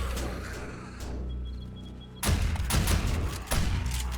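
Base defence turrets in 7 Days to Die Alpha 19 firing on a zombie horde, a loud, dense burst of rapid gunfire that starts abruptly and rattles on without pause.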